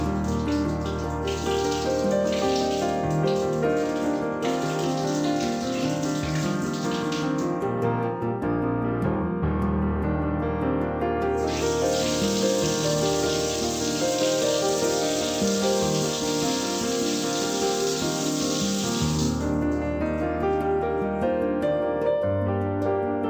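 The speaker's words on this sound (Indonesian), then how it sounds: "Oke langsung aja kita isi airnya guys ke dalam kondom." Water from a tap runs steadily into a condom, a continuous rushing flow with brief changes in tone as the stream shifts, close and fairly loud with no talking.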